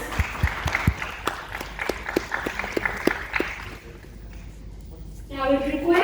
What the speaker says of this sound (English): Let's give a big round of applause for their outstanding support to us.